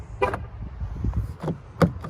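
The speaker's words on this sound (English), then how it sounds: "I can also push this button to lock the doors." A 2021 Jeep Wrangler Rubicon locks its doors, giving a short horn chirp and the snap of lock actuators, a few brief close clicks and toots in quick succession.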